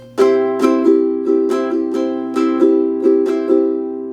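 A ukulele is strummed at a quick pace in a rhythmic island strum pattern, with bright, close chords and frequent evenly driven strokes, each pulse sustaining into the next. No voices are heard.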